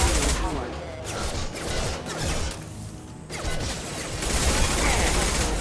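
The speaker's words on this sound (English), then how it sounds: "Taking heavy fire!" Heavy gunfire in the video game Mass Effect 2, a loud dense barrage of rapid shots and crashes running throughout, with a voice talking over the shooting.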